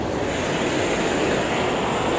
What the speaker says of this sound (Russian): Вот она, горная река, кристальная, чистая.